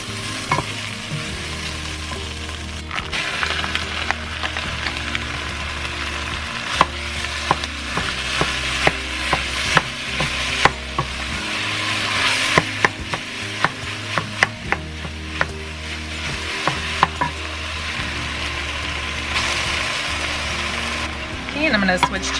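Ground turkey sautéing in a pan for copycat Skyline chili, a steady sizzle with repeated scraping and stirring clicks from a meat-breaking tool, close and fairly loud, with a low hum running underneath throughout.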